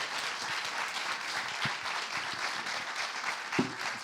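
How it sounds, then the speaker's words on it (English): An audience breaks into steady applause after a panel talk on journalism and misinformation, a fairly soft wash of many hands clapping without pause. "big round of applause"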